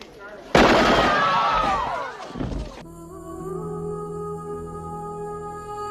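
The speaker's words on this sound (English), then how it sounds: "Michael Ironside and the science police start shooting up the place" Gunfire in a Total Recall movie scene as police shoot up the place: a sudden loud, dense burst of shots and impacts lasting a couple of seconds, then cut off by sustained orchestral music.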